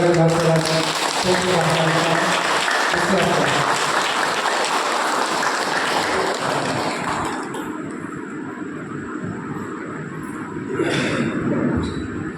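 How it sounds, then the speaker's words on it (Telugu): Audience applause fills a youth awakening programme at the Buddha Pyramid in Kurnool, a loud, dense clapping that runs steadily for several seconds, then thins and fades, with voices mixed in. "సార్ బిగ్ క్లాప్స్ మన దూరం"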